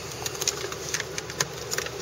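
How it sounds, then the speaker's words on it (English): A BMW 5 Series E39 engine idling with the cooling fan running, a steady mid-pitched hum and whir with faint periodic ticking on top, close and continuous. "The engine's running"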